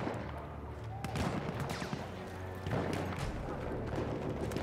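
Gunfire in the video game Battlefield 1 during a team deathmatch. Scattered shots and thumps ring out amid dense battle noise, mostly mid-distance and moderately loud.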